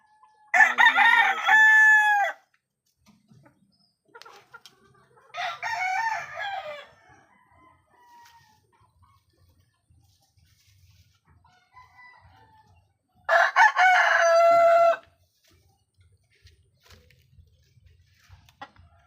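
A rooster crows loudly three times, each long call separated by several seconds of near silence with faint background sounds.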